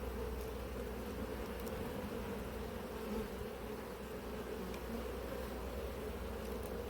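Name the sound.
honey bees buzzing at an open hive in apiary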